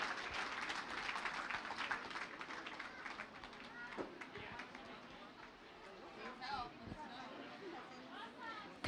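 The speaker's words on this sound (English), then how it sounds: "Nice round of applause for your top 5 champions." Audience applause for the top five champions at the 2021 Plymouth County Fair beef show, a steady, moderate patter of clapping in a show ring that thins out while nearby voices chatter over it.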